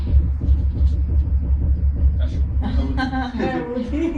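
Deep, rolling thunder rumbles steadily through the whole stretch, heavy and close, and a voice starts talking over it partway through.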